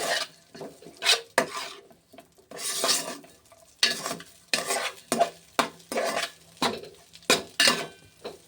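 Fried rice tossed with chopped coriander and curry leaves in a pan, a spoon scraping and stirring in a steady run of bursts with metallic clinks against the pan and a faint sizzle underneath.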